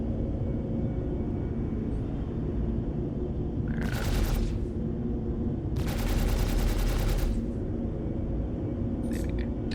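Rapid automatic gunfire erupts in short bursts while firing at an AI in Star Citizen, one burst near four seconds and a longer one around six, with faint taps later over a constant low rumble.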